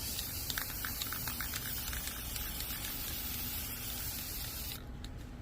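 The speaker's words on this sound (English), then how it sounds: "We're gonna block this off and spray this back black." A steady aerosol hiss of black spray paint on a Dodge Ram 1500 runs continuously for several seconds, close and fairly loud, cutting off abruptly near the end.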